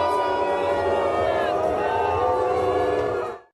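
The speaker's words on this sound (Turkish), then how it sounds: "İsrailli sporcuları taşıyan tekne seyirciler tarafından yuhalandı" Spectators booing the boat carrying Israeli athletes at the Paris Olympics opening, a sustained loud, wavering roar of many voices that cuts off abruptly at the end.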